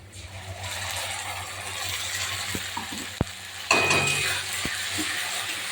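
Ground spice paste for mutton curry goes into a pan of browned frying onions, setting off a steady close sizzle with stirring scrapes, a few sharp clinks of a utensil against the pan, and a louder burst of frying as the paste hits the oil.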